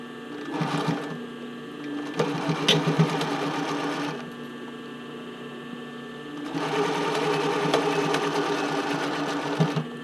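A sewing machine stitches straight along a bra cup overlay at close range, whirring in bursts with a long pause between runs and a quiet gap before the final burst.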